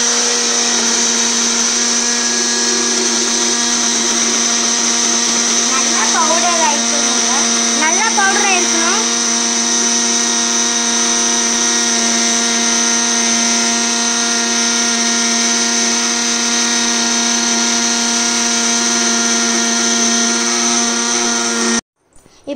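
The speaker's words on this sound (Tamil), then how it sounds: "இப்போ நீங்கள் வந்து மிக்சியில் போட்டு அரைச்சிக்கணும்." A kitchen mixer grinder whirs loudly and steadily, crushing Oreo and Marie biscuits into fine crumbs, a constant high motor drone running about twenty seconds before cutting off abruptly.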